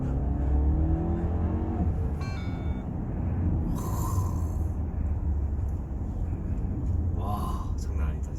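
New Audi A6 engine revving hard under acceleration, heard from inside the cabin as a loud, steady rising roar with people exclaiming over it.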